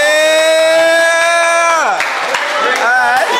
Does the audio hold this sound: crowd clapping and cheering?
yes